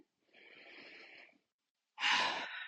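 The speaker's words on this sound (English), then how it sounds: "take a nice deep breath in" A deep breath drawn in and then let out during a calming self-tapping exercise: a soft, sustained airy inhale, a short pause, then a louder, rushing exhale close to the microphone, with no talking.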